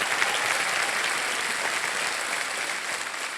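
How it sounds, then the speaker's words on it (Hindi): A studio audience on a television quiz show applauds loudly and continuously, a dense, even roar of many hands clapping with no talking heard. "तालियां बजाएं"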